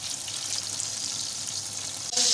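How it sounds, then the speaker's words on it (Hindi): Chapli kebabs fry in a pan with a steady, close sizzling hiss, and a louder burst of sizzle near the end, with no talking. "और इसी तरह बाकी भी कबाब भी हमने फ्राई पैन में डाल दिए हैं"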